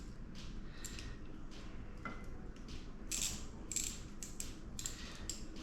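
A ratchet wrench tightens a hose clamp on a coolant hose, giving a series of quick rasping clicks in short bursts over a low mechanical hum, fairly faint and close.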